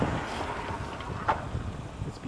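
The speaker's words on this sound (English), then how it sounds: "it's really windy out here" Strong wind buffets the microphone outdoors as a toy drone flies. The rumble is loud and gusty and close, with a brief burst partway through, and no talking.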